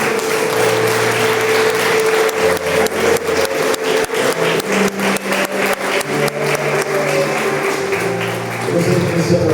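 A church congregation claps in rhythm at the end of a worship service, loud and steady close-up hand claps over sustained music, with voices joining in.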